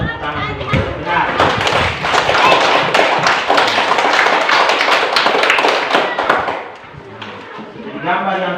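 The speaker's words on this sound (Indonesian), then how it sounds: "Silakan tepuk tangan dulu." A Grade 3 primary school class claps together, a dense, loud burst of many small hands lasting several seconds before fading, with children's voices around it.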